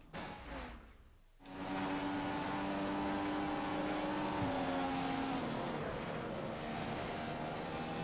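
Race car engine in the video game F1 2015, rising to a loud, steady high-pitched whine after a brief quieter dip, with a slight pitch drop partway through as the car takes a corner, with no talking.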